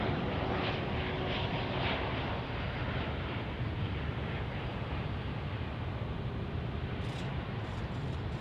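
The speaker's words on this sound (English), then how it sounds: "So love Gulfstream, but I also love me some Volaris on an A321neo." Volaris Airbus A321neo landing at DFW airport, a steady broad roar of jet engines and rushing air, constant and fairly loud throughout with no clear rise or fall.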